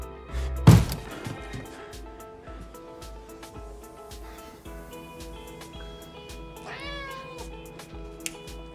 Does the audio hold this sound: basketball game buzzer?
no